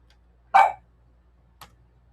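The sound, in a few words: puppy dog barking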